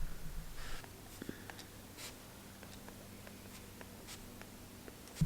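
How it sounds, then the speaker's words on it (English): An erasable pen writes in a notebook with soft, faint scratching strokes and light taps, close but quiet, ending with a brief louder bump. "let's see if I can write in these little boxes"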